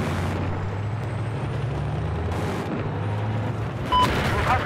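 A tank in Battlefield 4 drives and shoves a boat across the ground, giving a heavy, continuous engine rumble with grinding, hissing bursts and a sharp metallic clank near the end.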